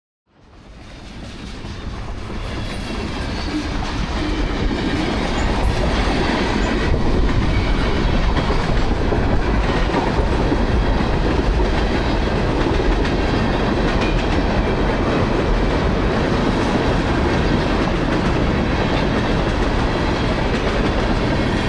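A long freight train passing close by, rising quickly to a loud, steady roar of rolling wheels with rhythmic clickety-clack over the rails, continuing without letup.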